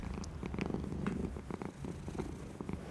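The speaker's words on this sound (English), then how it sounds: "Can I hear you purring," A cat purrs steadily during a belly rub, a soft, close, rhythmic rumble with no talking over it.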